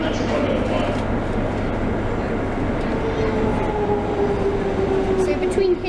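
A London Underground Metropolitan line train rumbles along close and loud, with a steady low drone and a rising whine of traction motors on track shared with the Jubilee line near Wembley Park.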